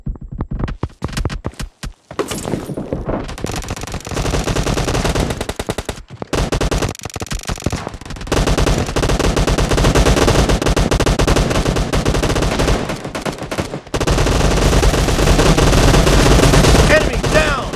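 Machine gun fire in a video game crackles in long, rapid bursts, loud and close, broken by short pauses and reload gaps, with occasional voices in the mix.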